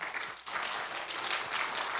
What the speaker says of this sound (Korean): 뜨거운 박수로 환영하시기 바랍니다.